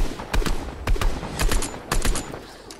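Bursts of gunfire in the Fortnite video game, several sharp loud shots in quick clusters with a short rapid volley near the end, heard alone without talk.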